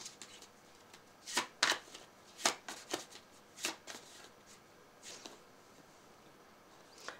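Tarot cards shuffled by hand, a run of crisp riffling bursts and slaps clustered in the middle and tapering off near the end, close and clear with no voices.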